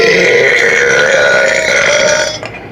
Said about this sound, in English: 2 more burps.